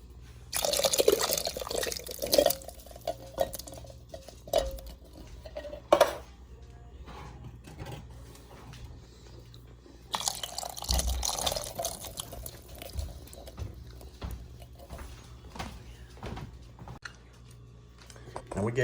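Canned vegetables with their juice are poured into an Instant Pot, making close splashing and glugging pours in two main bursts, with can clunks and quieter drips between.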